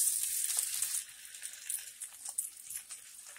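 Rehydrated bean curd frying in a hot wok, a bright crackling sizzle that is loudest at first and then settles into a steadier hiss with scattered pops.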